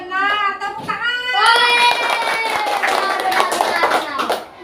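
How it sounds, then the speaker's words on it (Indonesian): A classroom of children in an Islamic religious education lesson claps together after a correct answer, a burst of quick overlapping claps with a teacher's voice and children's chatter around it. "Benar, tepuk tangan."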